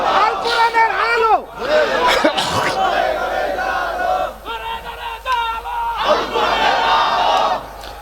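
A large crowd at a Bangla Islamic religious gathering roars a loud, unified takbir chant several times in strong surging bursts, with brief gaps and a preacher's voice between them.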